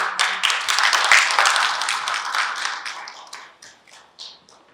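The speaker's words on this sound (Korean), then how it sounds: "큰 박수로 맞이해 주시기 바랍니다" An audience at a university student council inauguration ceremony claps to welcome a speaker, a dense burst of applause that thins out into scattered claps over a few seconds.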